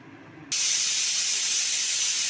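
A pressure cooker with mutton inside releases steam, a sudden loud sustained hiss cutting in after a brief quiet moment and holding steady, close by.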